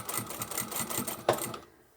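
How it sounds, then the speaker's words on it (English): A sewing machine stitches straight along an earlier stitching line to taper the fabric of an oversized blouse, giving a close, quick mechanical rattle that carries for about a second and a half before stopping. "I'm just going to continue stitching straight on that previous stitching line"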